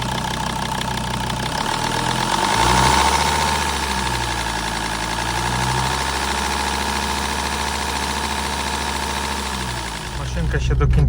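A car engine with faulty swirl flaps, replaced injector tips and a hanging idle, not yet fully warmed up, idles with a steady rough hum, then is briefly revved and settles again before rising once more near the end.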